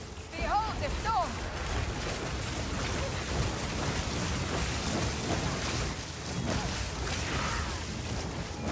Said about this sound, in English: Behold the storm!